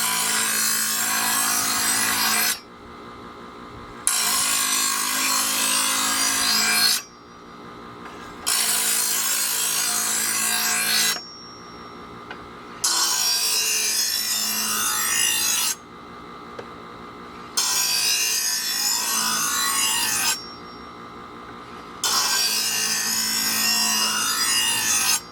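A knife is honed on the honing side of a Presto 08810 electric knife sharpener. Several loud, steady passes of grinding hiss each last a few seconds over the motor's hum, with short quieter gaps between them and no talking.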